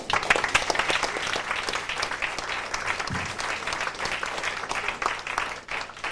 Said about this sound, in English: I think you deserve to applaud yourself